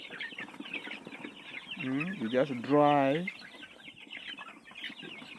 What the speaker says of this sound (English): I see how chickens are growing.